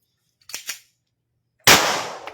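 A single sharp, loud bang comes from test-firing a homemade barrel gun, with a short echoing tail. Two faint brief knocks sound in quiet just before the shot.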